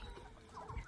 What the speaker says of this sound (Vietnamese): Mấy gà dễ thương quá.